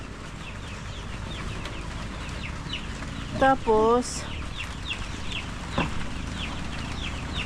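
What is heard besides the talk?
young chickens clucking on a farm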